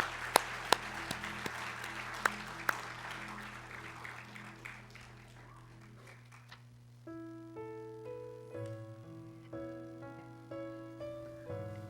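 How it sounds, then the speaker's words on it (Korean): A church congregation claps together at a thanksgiving service for retirements and ordinations. The applause is loud at first, then thins out and gives way to sustained keyboard notes. "다시 한번 큰 박수로 한번 감사의 뜻을 드리시기 바랍니다"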